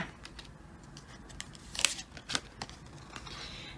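Tarot cards drawn and flipped from a deck during a reading: a couple of brief crisp papery snaps and rustles stand out over a quiet room background, with faint shuffling scrapes between them.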